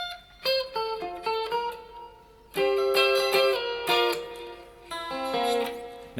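An electric guitar plays part of a song with plucked notes that ring into each other, then fuller strummed chords, moderately loud with no talking.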